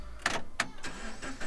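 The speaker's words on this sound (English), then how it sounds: "let's start the car" A 2013 Subaru BRZ with push-button start cranking over, several short bursts of starter noise followed by the engine catching, close by.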